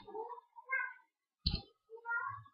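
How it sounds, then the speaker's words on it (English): A cat meows several times in short, nasal calls near and fairly loud, with brief pauses between and a sharp click midway. "Big kitty."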